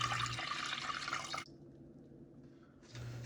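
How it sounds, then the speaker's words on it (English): Water is poured into a cooking pot in a kitchen, a steady splashing fill that stops partway and then resumes, close and fairly quiet with no talk. "you're going to pour 4 cups of water into a pot"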